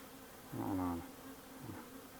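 Honeybees buzz around a frame lifted from a weak hive colony: two short, faint buzzing passes close by, against quiet background noise.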